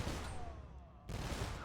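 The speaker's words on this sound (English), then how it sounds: "The cannons firing out there are nice." Castle cannons fire in a real-time strategy game match between Celt players, faint rapid volleys of booming shots that break off and then resume.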